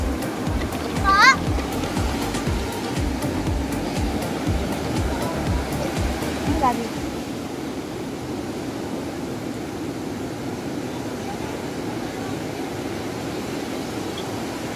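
Rushing water at a Bataan beach resort, a steady broadband roar that runs through the whole stretch, with children's voices and brief talk over it in the first half.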